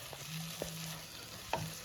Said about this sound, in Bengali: এই মশলাটাকে কিন্তু 2 থেকে আড়াই মিনিট লো ফ্লেমে খুব ভালোভাবে কষাতে হবে।